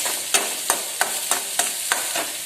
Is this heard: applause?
no